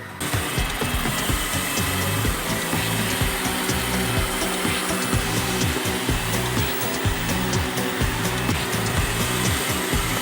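A robot vacuum mops and scrubs a milk stain on the floor, giving a steady close motor whir with a rapid rhythmic scrubbing pulse underneath that runs without a break and with no voices.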